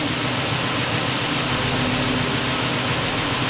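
A rebuilt engine in a car the insurer wrote off idles with noisy lifters, a dense, steady mechanical clatter and hum filling the whole stretch, loud and close, with no voices.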